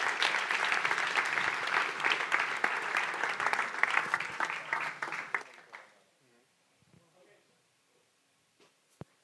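An audience at a tech meetup claps for a speaker, a lively burst of applause that fades out after about six seconds and leaves near silence with a few faint sounds.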